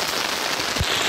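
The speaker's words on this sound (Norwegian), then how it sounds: "Ja, det kom mye regn, altså." Heavy rain falling outdoors on a camping trip, a steady dense hiss of drops with one brief low thump partway through, no voices.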